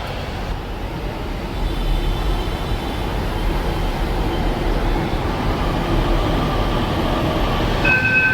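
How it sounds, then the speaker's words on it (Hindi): A two-car Patna Metro train arriving at a station, with a steady rolling rumble that builds gradually and a faint high squeal near the end, with no talking. "अपनी गाड़ी देख सकते हैं भूतनाथ मेट्रो स्टेशन से खुल चुकी है।"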